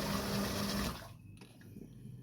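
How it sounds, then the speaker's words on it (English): Sump pump pumping out water, a loud rushing gush that cuts off abruptly about a second in, leaving faint trickling and scattered small knocks afterward. "and let that pump out"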